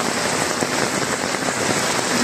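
Heavy typhoon rain pours down steadily and loudly, a dense continuous hiss of water hitting surfaces with no voices present.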